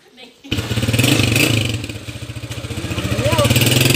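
A TMX155 motorcycle in rural Pangasinan pulls away, its engine running loud and steady with a rhythmic low thump and slight revving as it rides off, while people talk over it.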